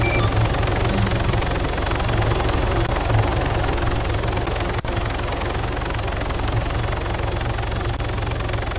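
A helicopter in the military game Arma 3 runs loud and close, its dense rotor-and-turbine roar holding steady with a low rhythmic thump throughout, no one talking over it.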